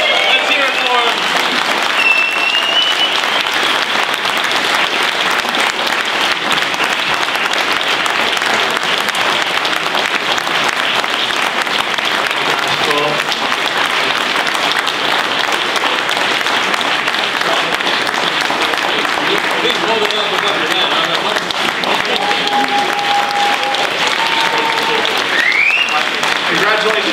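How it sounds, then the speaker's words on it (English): A crowd at a live event applauds the Hackaday Prize 2014 winner, loud dense clapping that holds steady throughout, with cheers and scattered voices mixed in. "Let's keep those applause going"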